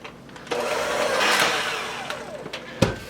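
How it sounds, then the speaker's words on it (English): An electric mixer whirs at medium speed through cheesecake batter with cream, a rising and falling motor hum lasting a few seconds before cutting off with a clunk. "we're gonna put the mixer back on and mix it up"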